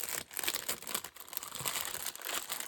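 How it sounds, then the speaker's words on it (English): French rag paper crackles and crinkles as it is handled up close, in continuous rustling bursts with brief pauses and no talking. "French rag paper."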